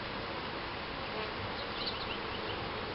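Bees buzz around an open beehive during a July hive inspection, a dense, steady, close swarm hum that carries on without pause and with no talking.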